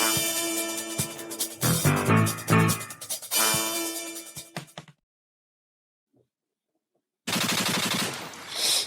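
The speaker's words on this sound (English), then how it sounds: "More shots fired." A burst of loud, rapid gunshots, like machine-gun fire, rattles for about five seconds, falls silent, then a second volley of gunfire starts up near the end.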